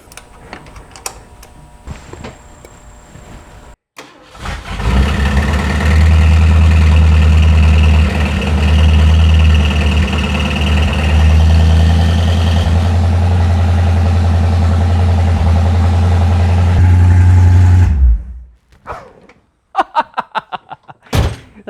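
Loud, close rumble of a 1968 Ford Mustang convertible V8 running with near-straight pipes, idling roughly and in need of timing for about thirteen seconds, framed by clicks and clatter before and after.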